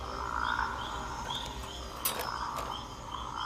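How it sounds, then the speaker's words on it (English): A male rocket frog of an endangered species calls in a series of short, sharp chirping notes over a soft steady background hum, fairly faint and heard alone. "a male rocket frog"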